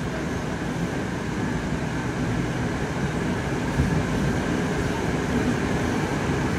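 Moscow metro train Moskva 2019 (81-775) running, a steady loud rumble and roar of the moving car with no talk.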